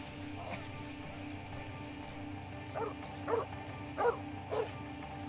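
A dog gives a few short, mid-pitched barks and yips toward the end, spaced roughly half a second apart, over a steady low rumble like a moving carriage.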